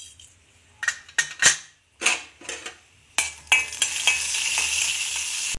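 Cumin and mustard seeds crackle and pop in hot oil, a few sharp bursts at first, then a continuous loud sizzle; no voices.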